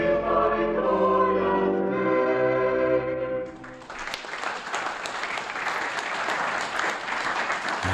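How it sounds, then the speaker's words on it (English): Village audience applause rises after a stretch of sustained tones and then fills the rest of the moment with a dense, steady wash of clapping. "Don't you just love the sound of applause?"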